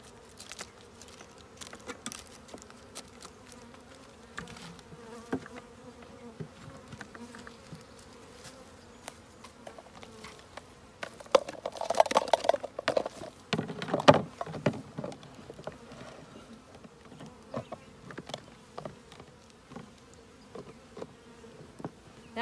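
Honey bees buzz around a hive, a dense droning hum with individual insects zipping close by, growing busier and louder midway, with no talking.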